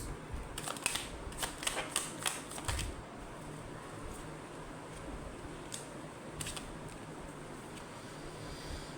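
Tarot cards drawn one at a time from a deck during a Hindi love reading, giving a cluster of soft, crisp card snaps and slides close up, then a quiet pause and a couple more isolated flicks.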